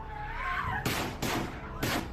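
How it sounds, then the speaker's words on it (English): Gunshots ring out inside a Parkland, Florida high school during a shooting, three sharp, loud broadband cracks spaced unevenly about half a second apart over a low room rumble and faint voices. "Gunfire erupting inside this high school."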